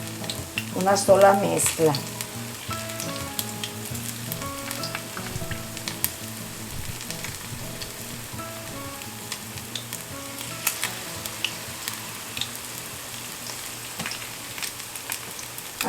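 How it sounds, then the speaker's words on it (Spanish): Strips of fish for Baja-style fish tacos fry in a hot pan, giving a steady, close crackling sizzle that is loudest at the start and runs throughout under background music. "vamos a dejar caer en el sartén procurando que queden separadas nuestras tiritas de pescado unas de otras"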